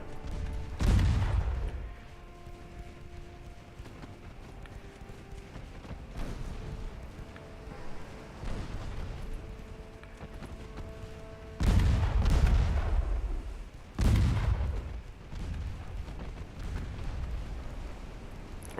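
Heavy warship guns fire in a naval battle in Ultimate Admiral Dreadnoughts, with a few deep, booming salvos separated by long quieter stretches of low rumble.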